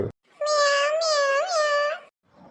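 A single long, tonal cat meow rises and wavers, loud and close, standing alone with brief quiet around it.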